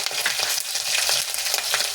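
Garlic-ginger paste sizzling loudly in hot oil in a pan for fish curry, a steady dense crackle with stirring throughout and no talk.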